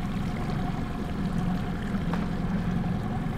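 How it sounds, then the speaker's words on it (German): Boat motor idling on a river while fishing for catfish, a low, steady rumble close by with water noise, continuous and unchanging. "habe den Motor nur im Standgas laufen"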